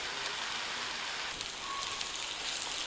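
Stuffed green chilies fry in a pan with a soft, even crackling sizzle, faint and steady with occasional small pops, heard alone without voices.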